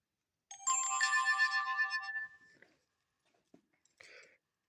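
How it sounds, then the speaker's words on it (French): A phone's notification tone plays a bright, ringing melodic chime for under two seconds, close and clear, followed by a few faint ticks and a short buzz. "Les bruits que vous entendrez, ça sera peut-être les notifications de mon téléphone"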